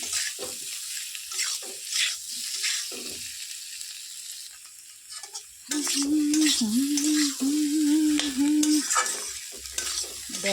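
Potatoes and spices fry and get stirred in a pan at home, a close sizzle with frequent scraping and clattering of a spoon. A steady hum joins partway through and runs beneath the stirring.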